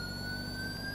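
A steady wailing emergency siren heard during an ambulance pursuit in the LSPDFR police game, held continuous and fairly faint over a low engine hum.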